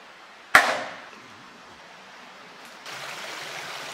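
Single sharp metallic bang struck on a tin shed in a jungle, loud and close, with a ringing decay over a steady background of running water and ambience that grows slightly louder later.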